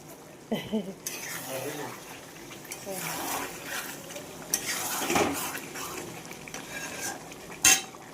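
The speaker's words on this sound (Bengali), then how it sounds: "চলো আমি একটু নেড়ে দিই" A spoon stirs bitter gourd frying in a wok, with close scraping and clinking over a soft sizzle, plus a few sharper metallic knocks. A voice talks intermittently through the stirring.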